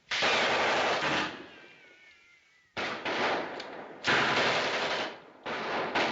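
Machine gun fire in a 1938 film, loud bursts of rapid shots separated by short pauses, a quieter tail fading away before three more bursts follow.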